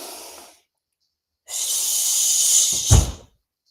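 Deep breathing during an exercise warm-up: a short exhale, a pause, then a long strong inhale that ends in a sharp, forceful puff, close and loud with no talk.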